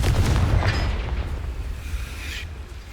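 A Confringo spell from Hogwarts Legacy bursts in a deep booming explosion right at the start, then rumbles and crackles as it slowly fades, with no talking.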